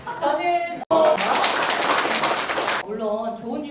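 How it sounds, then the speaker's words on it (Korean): An audience at a fire service academy lecture on stress management claps for the lecturer in a dense burst of roughly two seconds, loud and near, with a voice talking just before and after. "아유 박수 한번 보내주세요 여러분."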